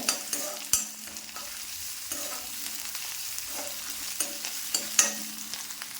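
Crushed large garlic and ginger fry in a pan, a steady close sizzle broken by sharp scraping stirs of a spatula at irregular moments, with no voices.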